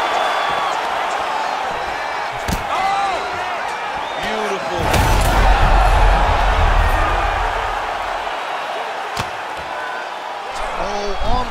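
Arena crowd in the UFC 5 fighting game, Khamzat Chimaev versus Belal Muhammad, roars steadily throughout, swelling louder midway through with deep thuds of landed strikes and sporadic whoops.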